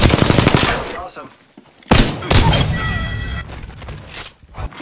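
Gunfire in Apex Legends comes in loud, rapid automatic bursts separated by short pauses. A short burst sounds near the end.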